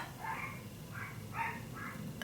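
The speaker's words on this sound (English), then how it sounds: "Now the dogs are barking." Dogs bark at a distance in four short bursts, faint and muffled against a steady low background hum, with no voices.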